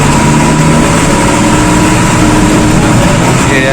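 A Bangkok city bus engine idles with a loud, steady, rumbling drone that runs unbroken through the whole stretch, with no voices over it.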